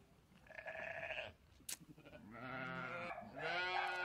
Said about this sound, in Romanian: Uite oile de la Dani, de la vecinul.